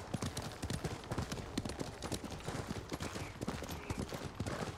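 Horse hooves clip-clop in the video game Ghost of Tsushima, a fast, steady galloping rhythm that runs the whole time with no talk over it.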